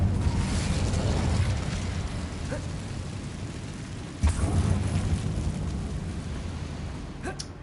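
An Incendio fire spell is cast in Hogwarts Legacy inside a dark mine: a sudden whooshing burst of flame over a rumbling, roaring background with faint crackles and pops.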